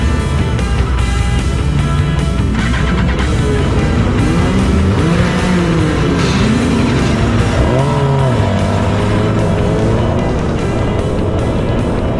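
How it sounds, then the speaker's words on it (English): An F3 race car at speed on the Donington Park circuit, its engine note rising and falling through shifts as it is followed closely, loud and continuous under heavy wind rush. "Here I'm following an F3 car."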